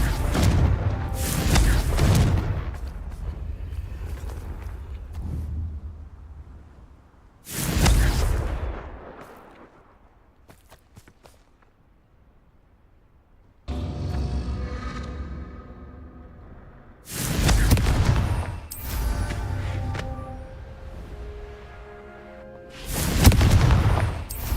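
Confringo fire spell explosions in Hogwarts Legacy: five loud, booming blasts at irregular intervals, each with a sharp onset and a rumbling decay, separated by quieter stretches.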